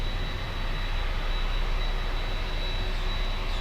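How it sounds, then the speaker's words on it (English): A Swiss airliner on final approach to runway 9 at Miami airport gives a steady, distant jet engine roar that holds at an even level throughout, with no voices. "On final approach for runway 9."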